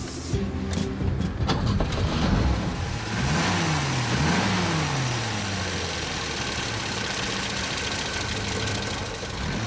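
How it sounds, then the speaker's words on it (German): A Peugeot 403 Cabriolet's 1.5-litre four-cylinder carburettor engine with side camshaft runs steadily close by, rising briefly in pitch early on before settling to a constant drone, with voices faintly audible beneath it. "Unter der Haube arbeitet ein Vierzylinder-Vergasermotor mit seitlicher Nockenwelle."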